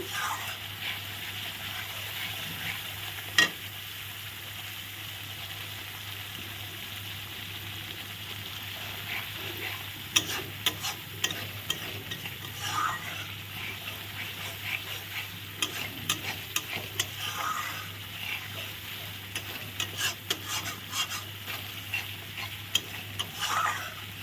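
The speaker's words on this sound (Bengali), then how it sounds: "সব মশলা দিয়ে ভালো করে কষিয়ে নিচ্ছি" Spices fry in a pan for a vegetarian dish with a steady low sizzle, while a spoon scrapes and stirs in scattered clicks that grow busier in the second half, with no talking.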